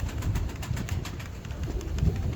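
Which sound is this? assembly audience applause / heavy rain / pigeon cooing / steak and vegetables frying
pigeon cooing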